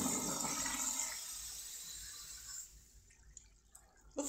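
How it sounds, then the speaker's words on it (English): A Maddock Madstone antique pedestal urinal flushes with a loud rush of water that fades over a few seconds into quiet trickles and drips, ending with a sharp knock. "Let's have a look at a flush, shall we?"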